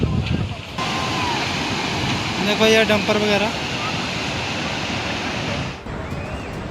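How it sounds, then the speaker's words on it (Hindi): Floodwater roars down a swollen stream after a cloudburst in Kishtwar, a loud continuous rushing wash that fills the whole clip while someone speaks briefly over it. "देखो कैसे पानी बढ़ रहा है"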